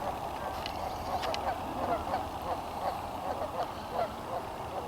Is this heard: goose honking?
yes